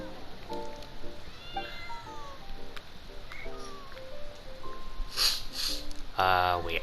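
Cat in the video game Genshin Impact, meowing in a string of short, fairly close calls over light background noise, with bursts of game effects near the end.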